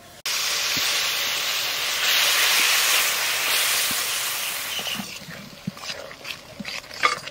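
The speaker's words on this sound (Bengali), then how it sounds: "জিরে ধনের গুঁড়ি, মশলার মধ্যে একটু জল দিয়ে দেবো।" Water poured onto hot cumin and coriander spice paste in a pan sets off a loud, continuous hissing sizzle that gradually fades into quieter crackling and bubbling, close up.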